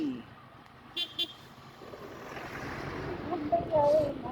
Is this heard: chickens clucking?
no